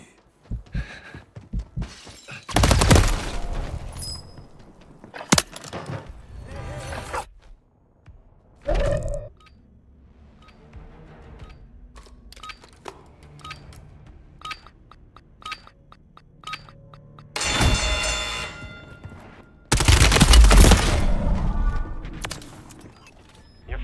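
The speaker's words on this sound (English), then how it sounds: "I'm taking fire." Gunfire and impacts in the multiplayer video game Warzone, with several loud broadband bursts near the start, middle and end separated by quieter scattered shots and clatter.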